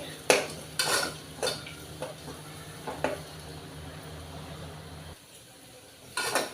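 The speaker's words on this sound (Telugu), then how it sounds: "ఈ పప్పు ఒక 2 నిమిషాల పాటు వేగాలి" Lentils fry in a spiced oil tempering with chili powder for a potato dal dish. Soft sizzling sits under several loud metallic spoon scrapes and clanks against the pot, and the sound drops to near quiet before a final stir.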